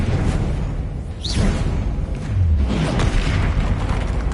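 A Confringo blasting curse explodes in Hogwarts Legacy: a loud, rumbling blast with a brief whooshing streak, sustained low booming throughout, and a second swell of rumble near the end.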